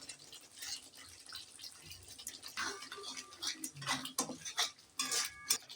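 Food is stirred in a pan on a gas stove while vegetable paneer cooks, with quiet, irregular metallic scrapes and clinks of a utensil against the pan and faint sizzling beneath.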